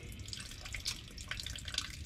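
Water dripping and trickling from the rear end of a 1969 Minneapolis Moline U302 tractor during engine reassembly, a steady close wet patter with a few sharper drip splashes and no talking.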